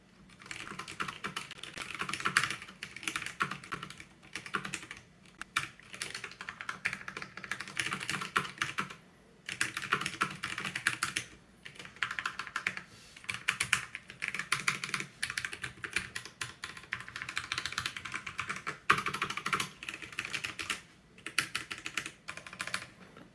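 Continuous close typing on a Drop CTRL high-profile mechanical keyboard with Halo Clear tactile switches, a dense run of clacking keystrokes broken by brief pauses, with no talking.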